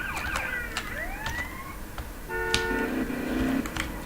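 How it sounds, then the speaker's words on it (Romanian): A rapid police siren on a Dacia police car in GTA Romania wails in fast sweeping tones, then changes to a steady pulsing electronic pattern, fairly loud, with no talking. "Este sirena mai rapidă."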